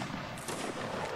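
A massed infantry musket volley in a video game fires as one heavy, rolling burst, loud and close, its rumble and crackle filling the whole short moment.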